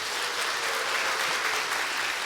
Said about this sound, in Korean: 크게 박수 치겠습니다